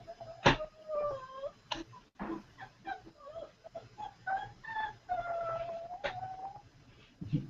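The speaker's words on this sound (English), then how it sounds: "Cat noise." A cat meows several times in drawn-out, wavering cries, fairly close, with a few sharp knocks and bumps between the calls.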